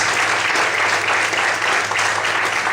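A church congregation claps loudly and steadily, a dense wash of applause filling the room with no voices standing out.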